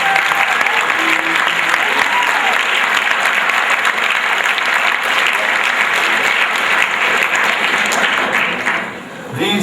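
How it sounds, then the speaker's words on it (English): A crowd at a school basketball sports awards night claps loudly and continuously for honored players, a dense wash of applause that holds steady for several seconds before dipping briefly near the end. "Let's have a round of applause,"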